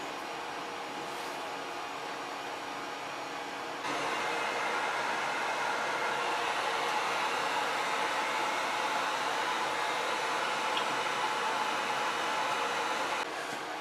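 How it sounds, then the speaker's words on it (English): A handheld heat gun blows steadily on the adhesive of a 3D printer print bed, a constant broadband hiss that gets slightly louder after a few seconds and carries on without pause, with no talking. "Okay, so I have my heat gun, and I'm just going to try to heat this up, see if it makes the adhesive a little more pliable."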